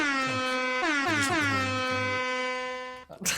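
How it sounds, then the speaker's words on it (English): A loud air horn blares in one long, brassy blast lasting about three seconds, then cuts off into a brief clatter. "it's an air horn"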